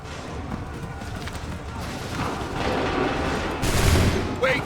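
Musket volleys ring out in Assassin's Creed III Remastered during the Lexington and Concord battles, a dense string of loud overlapping gunfire blasts building toward a heavier burst near the end, with shouted commands in the scene.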